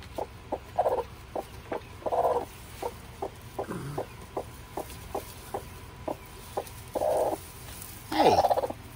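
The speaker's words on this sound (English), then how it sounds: "Got another broody hen." A broody hen, one of the older birds, gives a string of short, evenly spaced clucks, broken by a few longer, harsher squawks and growls, close by and alone with no talk.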